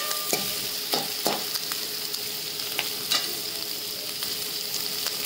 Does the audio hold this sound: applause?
no